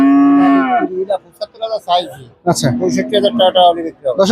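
A Friesian cow at a cattle market lets out a loud, long moo up close, after which people talk over the busy market noise.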